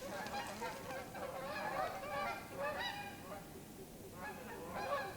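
A whole flock of geese honks continuously outdoors, overlapping calls rising and falling in loud bursts for several seconds with steady wind-like background noise and no voices.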